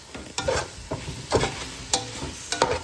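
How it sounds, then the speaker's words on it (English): Ground ginger is stirred into a sauce in a pan: a spoon scrapes and swishes in several short strokes over a soft, faint sizzle. "Let me stir this a little."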